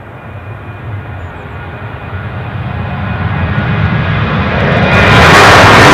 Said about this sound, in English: You'll probably hear some of the notes off the ATR now